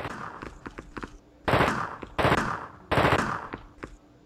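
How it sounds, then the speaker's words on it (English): Gunfire in The Thing video game, three loud bursts of automatic fire aimed at an explosive barrel, each a dense rattling volley, separated by quieter single shots and clatter. "get away from the explosive barrel. Because I'm going to shoot it"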